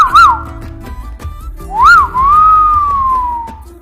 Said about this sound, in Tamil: இங்கே உங்களை பார்த்து விசில் அடிக்கிறாரு